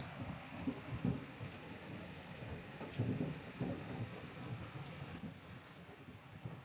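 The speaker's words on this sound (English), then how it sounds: "I've been waiting to see if the rain dies down a little bit" Steady rain falls outside an A-frame cabin on the first day of the season, a continuous hiss and patter with soft low rumbles underneath and no voices.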